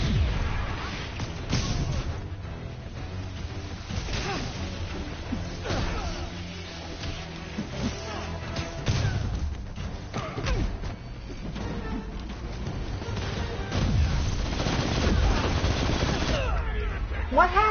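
Sustained minigun fire from a finisher move in the Spider-Man PS4 video game, a loud continuous rattle of rapid shots with impacts and crashes throughout, mixed with game effects and occasional voice.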